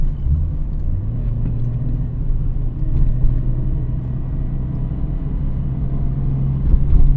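A Nissan Skyline GT-R V-Spec R33 with a five-speed gearbox pulls onto a highway, its engine giving a steady, close, low rumbling drone that shifts pitch slightly as it builds speed, with no voices.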